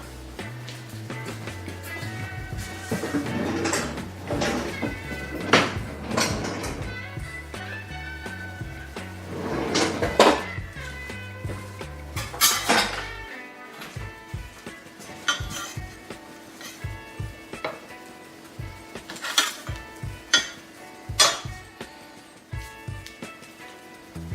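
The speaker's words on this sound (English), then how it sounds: "Now I'm going to put those on a sheet tray." English-style sausage rolls, seam side down, set onto a metal sheet tray with repeated clanks and scrapes of metal and pans, close and clear, a steady run of clattering with brief quieter gaps.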